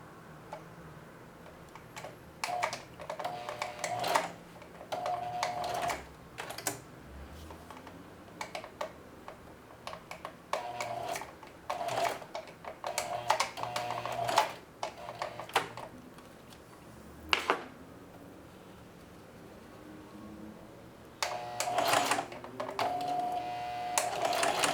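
A sewing machine straight-stitches thick apron straps in stop-start runs, rapid close mechanical ticking in short and longer bursts, with quiet pauses between passes forward and backward.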